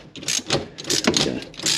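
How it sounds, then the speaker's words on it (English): A ratchet works a nut free during a kitchen tap swap, giving a quick series of clicking, grinding turns over less than two seconds, close and fairly quiet. "So we've got that ratchet in there now, onto the nut."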